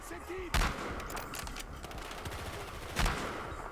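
Gunfire in the multiplayer shooter Battlefield Hardline: two sharp shots stand out over a steady wash of game noise and distant fire.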